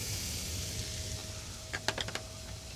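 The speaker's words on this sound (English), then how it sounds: "Gonna put it in the pan, let it sizzle away." Butter and finely diced shallot hitting a hot pan, a steady low sizzle with a burst of sharper crackles and pops near the end, close and moderate in volume.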